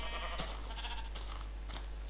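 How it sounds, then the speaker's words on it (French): Sheep bleating in Minecraft, a meadow full of them, with several short bleats in succession over a steady background hum. "on est tombé dans une prairie de moutons ici"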